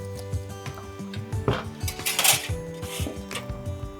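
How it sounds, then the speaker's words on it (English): Metal tray clanks and clinks in a kitchen as a snapper fillet wrapped with potato, leek and garlic butter is set on a tray and slid into the oven, a busy run of close knocks and rattles. "So now, place that on a tray. We're going to put that in our oven."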